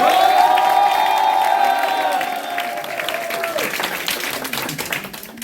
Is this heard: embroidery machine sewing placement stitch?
no